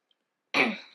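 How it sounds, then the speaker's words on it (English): A single short, rough throat clearing, close and fairly loud, after a moment of near silence. "I'm going to be clearing my throat a lot."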